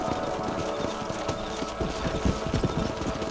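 A horse's hooves clip-clop at a steady trotting rhythm in the Western game Red Dead Redemption, close and clear over a low outdoor ambience.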